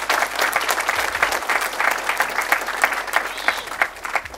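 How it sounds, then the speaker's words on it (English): An audience at a community event claps in a dense, steady round of applause for a workshop presenter, with a low hum underneath. "If you were, give him a round of applause."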